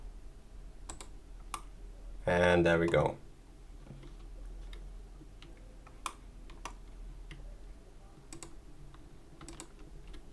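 Sparse computer keyboard taps and clicks occur at irregular intervals beneath quiet room noise, with a brief spoken phrase in the middle.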